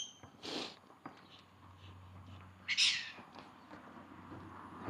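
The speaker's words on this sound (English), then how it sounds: "The loudest bird then." Two loud, bright bird calls ring out in a lush riverside area of Innisfail, Australia, the first near the start and a sharper second burst about two seconds later, over a steady low hum and faint background.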